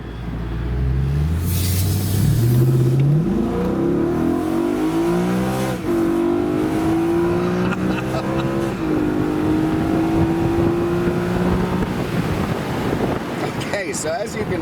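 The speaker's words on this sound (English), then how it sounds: "Instantaneous shifts, incredible sound out of that V8" A 2008 BMW M3 convertible's V8 engine pulls hard through the gears, its loud, steady rising roar dropping in pitch at each quick upshift, with wind rushing past throughout.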